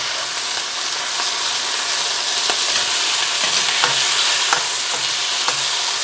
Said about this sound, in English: We really want a nice seared pieces of meat all throughout this dish.